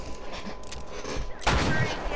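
A gunshot from the El Diablo in a video game, heard as a sharp loud crack near the end of a short stretch of quieter game noise.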